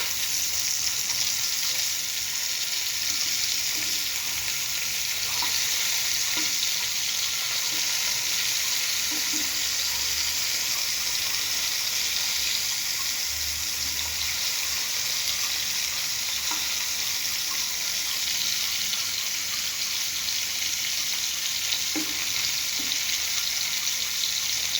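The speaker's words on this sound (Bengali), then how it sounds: "ইলিশ মাছ ভাজি করো।" Hilsa fish frying in oil in a pan, a steady, close, bright sizzle that continues evenly throughout with occasional faint clicks and pops and no talk.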